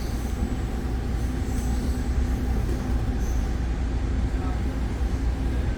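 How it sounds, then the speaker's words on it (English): Steady rumble and rattle of an exo commuter train riding the Saint-Jérôme line, heard from inside the car, with continuous rolling wheel noise and a faint high squeal. "Beautiful, beautiful train line, this one, St. Jerome."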